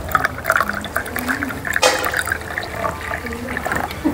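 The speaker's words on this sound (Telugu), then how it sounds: "వాటర్ పాలు వేసి" Water and milk poured into a container, a steady splashing, filling flow close by with a brief louder gush near the middle.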